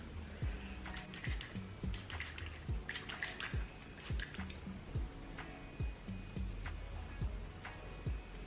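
Water being sprayed onto a wig and dripping, heard as repeated short squirts and wet drips in a quiet indoor room.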